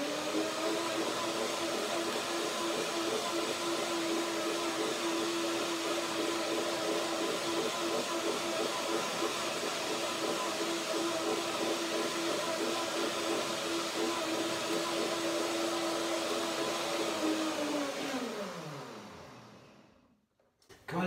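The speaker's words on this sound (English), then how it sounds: "That is easier to blend." A blender whirs steadily as it purees macadamia nuts with a little water into a sour cream, a loud continuous motor drone that runs for about eighteen seconds before winding down and stopping.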